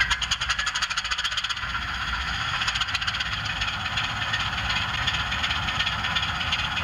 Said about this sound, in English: This is the startup of the class 25